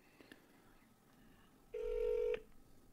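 A single steady telephone keypad tone, loud and clear for about half a second as a number is pressed to reach an automated booking line, preceded by faint background noise.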